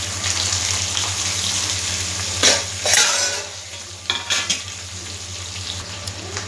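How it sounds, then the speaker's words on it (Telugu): Onion, green chillies and curry leaves frying in a pan for a pepper rasam dish, a steady close sizzle with a low hum beneath, broken by a few bursts of stirring scrapes and clinks. "దీన్ని ఇప్పుడు ఫ్రై చేద్దాం. ఒక ఆనియన్, 3 పచ్చిమిరపకాయలు, 2 రెమ్మల కరివేపాకు వేసేద్దాం దీంట్లో"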